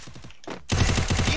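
Rapid automatic gunfire in a 4v4 wager match of a shooting video game: a lighter burst of quick shots, a brief gap, then a louder, denser volley of evenly spaced rounds.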